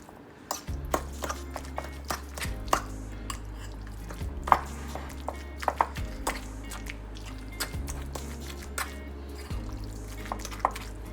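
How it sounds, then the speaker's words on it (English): Onigiri filling being mixed with a fork, with soft wet squishing and scattered clicks of the fork against the bowl, close and steady without speech, over a low repeating background hum. "just go ahead and use a fork and you can mix that all up"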